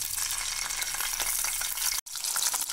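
Green chillies and garlic fry in about two spoons of hot oil in a pan, a loud, dense, continuous sizzle with a brief drop-out near the end.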